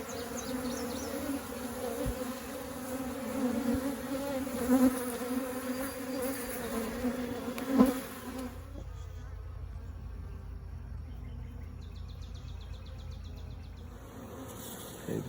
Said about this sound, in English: most of the bees are in that box. We do have 2 small wads of bees